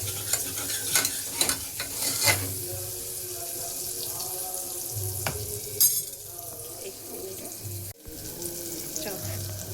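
A tempering of spices sizzles in hot oil for a potato curry in a home kitchen, with a continuous frying hiss, stirring scrapes and clatter, plus a few low hums and brief muffled sounds in between.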